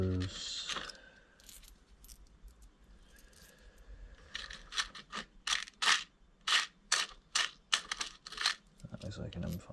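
Small metal washers for the bolts of a 1982 Honda XLS 125 motorcycle are handled up close: bright clinks and jangles come in a rapid irregular series of sharp taps, with a voice speaking faintly at times.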